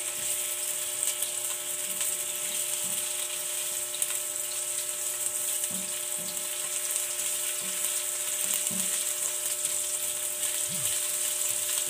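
Onion frying in a pan while cooking menudo, a steady broadband sizzle with faint stirring clinks and a persistent electrical hum running through the whole stretch.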